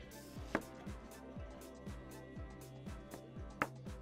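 A shallot being sliced with a knife on a board, with a few soft chopping taps and two sharper knocks, quiet and close against a background of low tonal music.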